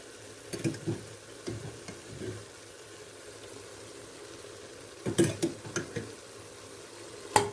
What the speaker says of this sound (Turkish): Güzelce salçamla biberlerimi ve soğanlarımı etimle birlikte güzelce bir harmanlayacağım.